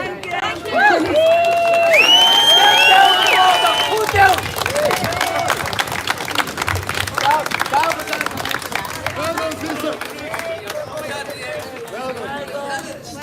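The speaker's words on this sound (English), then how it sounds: "Give her a boon of applause." Crowd at an outdoor child-protection rally at Custom House, Dublin claps and cheers loudly and continuously, with voices and chatter mixed through the noise.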